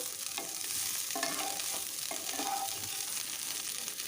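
Cauliflower florets fry in hot oil with a steady, soft sizzle as a utensil stirs them, occasional scraping and tapping strokes sounding over the continuous hiss; fairly quiet, with no voices.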